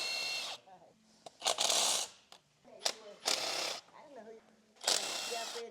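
Ratchet undoing 10mm valve cover bolts on a ZL1 engine during a heads and cam teardown, heard as several loud bursts of rapid mechanical clicking separated by quieter pauses with faint background noise.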